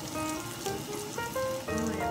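Egg-dipped bread slices (wentelteefje) frying in a pan, a soft continuous sizzle with faint crackle sitting under some clinking and a low tonal hum.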